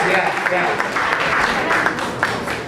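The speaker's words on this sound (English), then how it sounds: "clap a little louder" Diners at the Rotary Club of Freeport's 60th anniversary installation banquet keep up brisk, sustained applause, with someone talking over the clapping.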